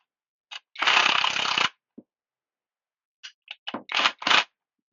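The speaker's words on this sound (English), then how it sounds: "So I'll chuck that up in my impact driver. I'll start this in the hole here, then I can drive this." A cordless impact driver fitted with a deep socket nut driver bit runs in a loud burst of just under a second, followed by several short, sharp bursts near the end, with quiet gaps between them.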